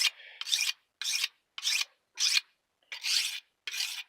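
An old semi-straight kitchen knife rasps across an old rough sharpening stone to cut serrations, in seven short, even strokes with brief pauses between them, close and with no talk.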